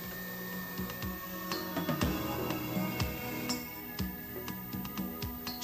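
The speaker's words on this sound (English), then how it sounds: "model construction begins with horizontal milling." A Unimat 1 miniature machine doing horizontal milling, giving a steady mechanical hum with repeated sharp clicks and knocks spaced through the cut, close and moderately loud.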